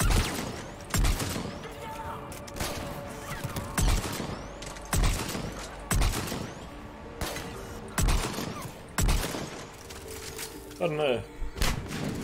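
Assault rifle bursts crack out in short, repeated volleys in Mass Effect 3, loud and close, spaced every second or two, with someone talking between shots.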